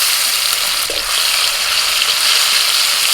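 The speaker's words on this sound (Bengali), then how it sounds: "জিরেটা একটু ভাজা ভাজা হয়ে এলে দিয়ে দিচ্ছি টমেটো কুচি" Chopped tomatoes sizzle in hot oil with whole cumin seeds that were fried first, a steady close, loud frying hiss with a brief stir partway through, no voices.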